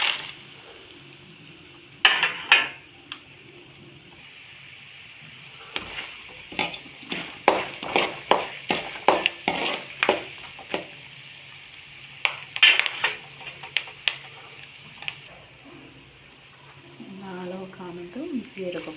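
Mustard seeds, peanuts, chana dal and urad dal frying in hot oil in a pan, with a quiet sizzle under a rapid run of sharp popping crackles and clinks of a spoon stirring.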